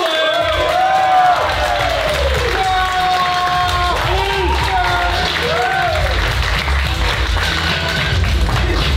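A crowd at a climate change protest claps and cheers continuously, dense applause with whoops under nearby voices talking throughout.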